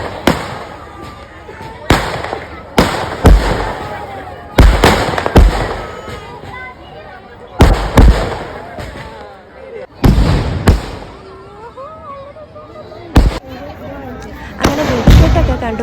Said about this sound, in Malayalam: അങ്ങനെ വെടിക്കെട്ടൊക്കെ കണ്ട് കുറേ നേരം നിന്നായിരുന്നു.